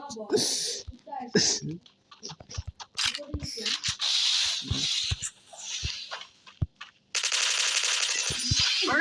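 Rapid video game gunfire crackles in sharp bursts and staccato shots, ending in a sustained rattling spray, while a player keeps talking over it.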